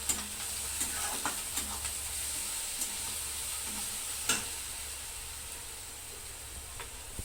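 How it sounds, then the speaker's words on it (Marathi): Egg bhurji ingredients (coriander, garlic, chilli paste) sautéing in a pan: a steady close sizzle with occasional light scrapes and clinks of a spatula, no voices. "ह्याला पण परतून घेते।"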